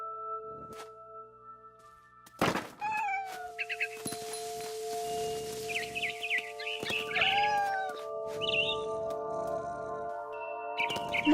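A cat meows and yowls several times amid synthetic tones and electronic sound effects in the video game What Remains of Edith Finch, with a sharp thump partway through.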